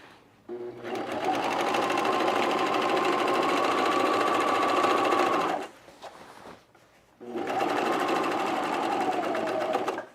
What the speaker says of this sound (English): So I'm gonna overlock this.